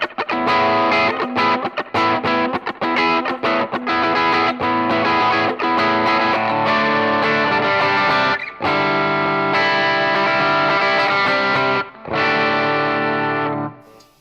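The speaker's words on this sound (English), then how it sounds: "Now let's just kind of go for a little, light reverb and a gritty distortion." An electric guitar played through a 5150 Iconic amp set for gritty distortion and light reverb rings out in loud sustained chords and riffs. Brief gaps break up the playing, and no one speaks.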